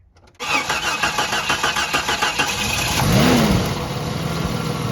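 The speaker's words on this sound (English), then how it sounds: "That was a cold start, hadn't been started." A Jeep engine cold-starting after repair of its in-tank fuel pump: a brief cranking burst, then the engine catches and settles into a loud, close, steady idle with a slight rise in revs.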